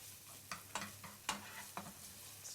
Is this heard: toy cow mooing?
no